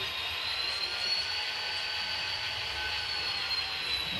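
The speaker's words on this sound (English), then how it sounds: "Get my train in the right direction here." A train hauling box cars rolls past during switching moves on the LVAE turn, giving a steady mid-level rumble with high metallic squeal tones over a low drone and no talking.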